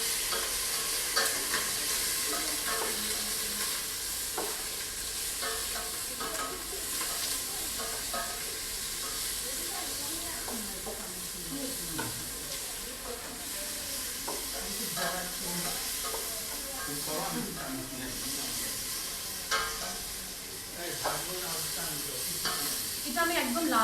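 Oil sizzles and crackles steadily in a frying pan while making chicken vegetable soup, a continuous bright hiss with frequent spatters and stirring clinks, loud and close, with no talking.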